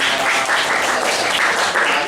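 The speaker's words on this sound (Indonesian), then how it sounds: "tepuk tangan untuk kelompok." Audience applause for a presenting student group in a teacher-training class at Universitas Negeri Malang, a dense, close, steady clapping that fills the whole moment.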